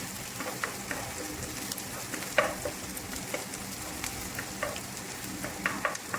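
Hotdog pieces fry in a pan while fried rice is being made, giving a steady close sizzle and crackle with scattered pops and occasional stirring clinks throughout, no talking.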